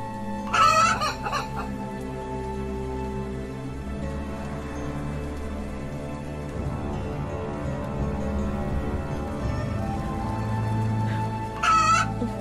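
Chickens in a yard make background clucking throughout, with a rooster crowing near the start and again near the end, fairly loud over a steady ambient hum; no one speaks.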